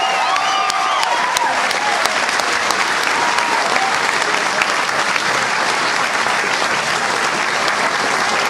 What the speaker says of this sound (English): How about one more round of applause for our newest Hall of Fame member, Mr. Bob Longo?